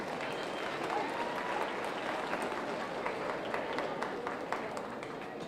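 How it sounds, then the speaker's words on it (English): An audience at a youth fair market hog show claps steadily for a class of exhibitors, a dense, even wash of applause from a crowd in a large hall, continuous for several seconds. "Give them all a big round of applause."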